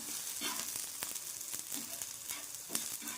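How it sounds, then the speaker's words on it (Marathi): Garlic cloves and onion frying in a pan, giving a bright, even sizzle with faint rhythmic stirring scrapes underneath, close but fairly quiet, no talking. "आणि लसणाच्या पाकळ्या घेतलेल्या आहे तेही भाजून घेणार आहोत आपण बघू शकता छानपैकी लाल होता आहे कांदा"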